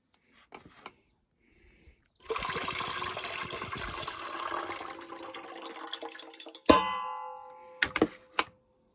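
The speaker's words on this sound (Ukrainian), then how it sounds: "Помідорки гарно пропарилися, водичку зливаємо." Hot water pours steadily out of one-liter glass jars of steamed tomatoes into a sink for about four seconds, followed by a few sharp clinks of glass and lids.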